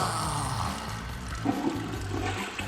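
A toilet flushes with a steady rushing roar of water, moderately loud and continuous for a few seconds, with no voices over it.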